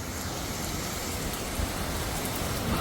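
Steady, dense October rain hisses continuously, a loud uniform wash of noise with no voices.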